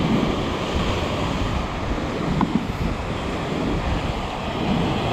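Ocean waves breaking at a secluded beach, a continuous loud wash of surf mixed with wind buffeting the microphone, steady with no voices.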